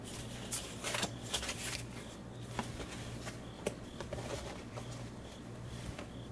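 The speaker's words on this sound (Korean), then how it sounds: "2번 카드를 선택하신 분들 카드 오픈하겠습니다." Tarot cards are shuffled and flipped open by hand, with repeated crisp riffles, slaps and soft papery brushing in an uneven close-up rhythm over a steady low hum.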